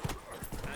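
Horse hooves clip-clop at a gallop in The Witcher 3 on PS5, a brief, muffled burst of rhythmic hoofbeats under game audio.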